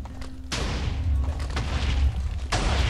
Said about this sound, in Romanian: ușor cu TNT-ul